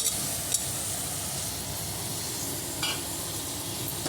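Drumsticks frying in a pot of sambar give a steady, close sizzle with faint stirring scrapes throughout, and a few brief clinks stand out near the start and again later on.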